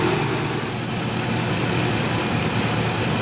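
A 5.7L Dodge Ram engine idles with the radiator hot and the fan clutch removed, giving a steady low rumble with a broad whooshing hiss, close and constant, with no one talking.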